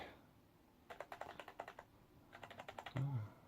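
A budget gaming keyboard's keys click in two quick bursts of rapid, close, fairly quiet keystrokes separated by a short pause, with no talking.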